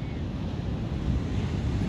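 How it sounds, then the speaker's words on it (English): Ocean waves crashing on a beach in rough surf, a constant loud roar of churning water with wind buffeting the microphone. "These waves look crazy. This is not normal waves."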